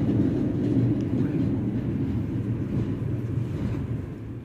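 A train pulls into Krian station with a steady low rumble and rolling hum that stays loud throughout and eases slightly toward the end.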